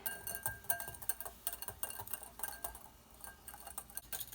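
A whisk clinks steadily against a bowl as maple walnut ice cream mixture is stirred slowly, light rhythmic metallic ticks close by and quiet, with no talking.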